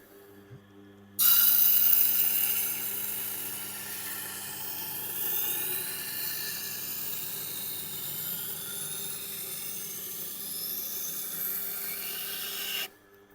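A kitchen knife is sharpened on a coarse grit setting of a powered sharpener, a loud abrasive grinding whir that starts abruptly, eases to a steady rasp and cuts off sharply near the end.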